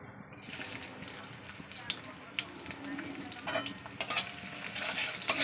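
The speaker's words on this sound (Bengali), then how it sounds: "দেখতে পাচ্ছেন তেল গরম হয়ে গেছে, এবার দিয়ে দিচ্ছি পেঁয়াজ।" Chopped onion hits hot mustard oil in a pan and sizzles steadily, a close, continuous crackling hiss with occasional stirring clatter and louder spits toward the end.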